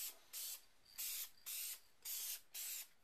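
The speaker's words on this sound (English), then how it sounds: "Spray it just like it's paint" An aerosol spray can lays a light coat onto an Xbox 360 controller in six short, even hissing bursts, each about a third of a second, evenly spaced and close.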